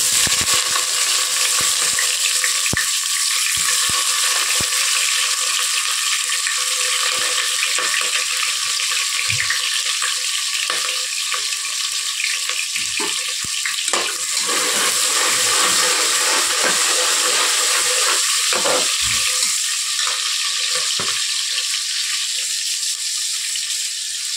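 Two large onions fry in a hot pan with no spices, a loud, steady sizzle and hiss lasting throughout, broken by soft scrapes and knocks as they are stirred.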